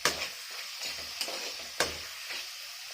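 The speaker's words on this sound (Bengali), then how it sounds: "টমেটোগুলো দিয়ে একটু ভেজে নেবো" Tomatoes fry in hot oil in a pan, giving a close, steady sizzle broken by a few sharp scrapes and knocks of a spoon stirring them.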